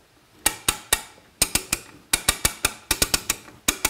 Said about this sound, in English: And I'm tensioning up the cable right now.